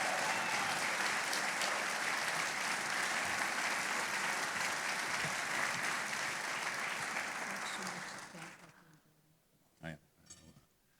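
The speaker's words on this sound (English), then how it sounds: "let's give them a real rousing round of applause" A standing audience at a Rotary club roast gives the cast and crew a long, loud round of applause that fades out near the end, leaving a few scattered claps and faint clinks.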